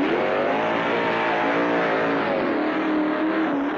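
A tractor pull engine revving hard under a heavy dead-weight load, giving a loud, continuous, rasping roar that holds steady with a slight rise and fall in pitch over a few seconds.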